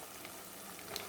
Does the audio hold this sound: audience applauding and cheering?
no